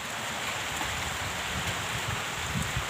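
Rain falls steadily outdoors during a fishing trip in strong wind, a dense continuous patter with a few louder drops nearby and no voices.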